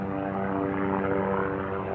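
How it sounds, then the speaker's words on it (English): Rotor and engine drone of a Coast Guard helicopter flying overhead near a lake, a steady, loud, even hum with strong low tonal harmonics and no talking. "It's a Coast Guard helicopter, it looks like."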